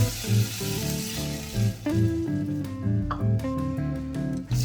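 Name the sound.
water added to pan, sizzling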